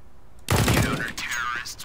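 Gunfire in a video game, a loud close burst of rapid shots with a sharp attack that rings out briefly before fading.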